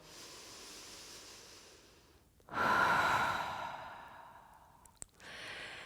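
A long, audible exhale during a yoga session, a breathy rush of air that swells and fades, followed by a short sharp breath and a softer second breath out.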